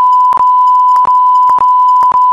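Four short electronic censor beeps over a steady tone, spaced roughly half a second apart, loud and close.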